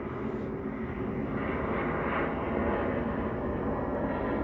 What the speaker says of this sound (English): There's an airplane going overhead.